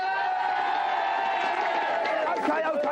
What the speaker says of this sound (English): let's have a big round of applause for Wanstead Magic